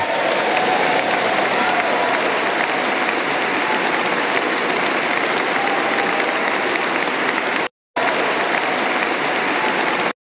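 A large audience applauds a speech, steady dense clapping that fills the space at full volume throughout, broken once by a brief cut near the end.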